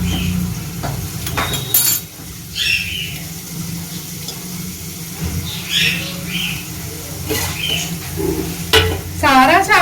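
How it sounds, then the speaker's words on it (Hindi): Fried rice being stir-fried in a kadhai in a home kitchen, with continuous sizzling and scraping of the spatula alongside intermittent chatter and bird-like squeaks, fairly loud and close. "तो फ्राइड राइस हमारा बन रहा है।"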